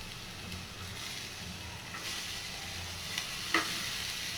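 Green chillies sizzling in hot oil for a Tamil pudalangai poriyal, alongside cumin, curry leaves and onion: a steady, moderately quiet frying hiss with a few brief crackles and pops, no talk.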